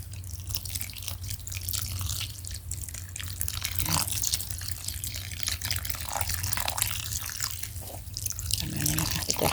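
Rice being rinsed in a steamer basket with a garden hose, with water running and splashing steadily and drips throughout, close and continuous.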